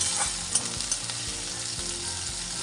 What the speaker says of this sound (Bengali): এবারে দিয়ে দিচ্ছি কুচনো পেঁয়াজটা। পেঁয়াজটা ভালো করে ভেজে নেব